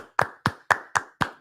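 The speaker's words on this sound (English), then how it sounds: "Can we get a round of applause for you and Lauren?" Five sharp, evenly spaced hand claps, close and fairly loud, each a crisp single smack with a quick decay, no voices over them.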